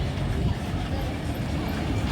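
A fairground train ride at an agricultural show in Mackay rumbles steadily along, a continuous low rolling clatter close by with crowd noise around and no clear talk.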